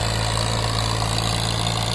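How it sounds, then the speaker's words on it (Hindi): A John Deere 3028 EN 28 hp 4WD mini tractor engine runs steadily with a loud, constant low diesel drone and hum, close by and uninterrupted. "छोटा सा ट्रैक्टर कमाल करता हुआ"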